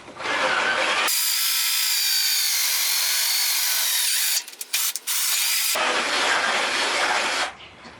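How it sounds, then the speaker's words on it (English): A small drill drives carriage bolts into wood on a trailer build, a loud continuous high-pitched whir that runs for several seconds with a brief stuttering break, surrounded by hissing noise. "I'm pleased with these little old drills"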